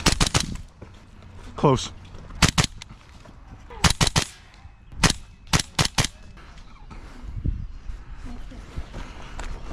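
Airsoft gun shots crack sharply during a game at an outdoor airsoft field, a scattered series of single and double pops at close range with players talking and calling out between them.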